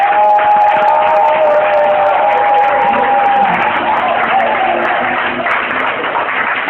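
A church congregation acclaims God with sustained loud applause and cheering, a dense wash of clapping and shouts that runs throughout, with a held musical tone early on.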